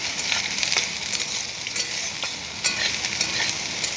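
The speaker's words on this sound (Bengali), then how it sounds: "আমি সয়াবিনটা ভাজবো" Soaked, squeezed soybean chunks frying in a pan, a steady close hiss and crackle of hot oil with occasional stirring scrapes, no voices.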